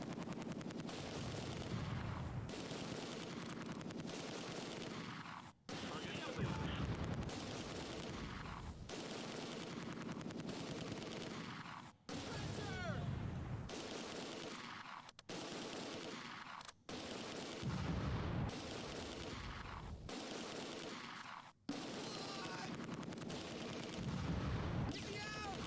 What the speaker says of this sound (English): Really need those enemy mortars to stop shooting.